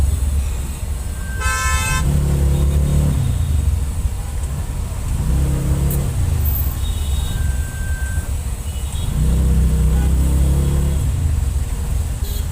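A load auto rickshaw moves through dense city traffic, its engine droning loudly throughout while several horns toot nearby, with one sharp honk early on and more traffic swelling around it.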